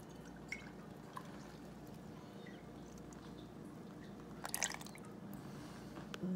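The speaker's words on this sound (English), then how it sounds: "so let's pour this in here" Liquid tincture poured and scraped into a Magical Butter Machine, faint soft drips and trickles over a quiet background, with a short louder scraping splash near the end.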